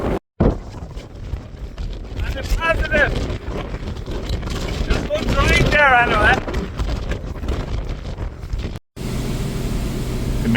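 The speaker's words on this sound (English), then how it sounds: "The maize is fairly starting to come under pressure now with the wind" Strong wind gusting across an open maize field on a hill, a loud continuous rushing roar battering the microphone, with a person talking over it throughout.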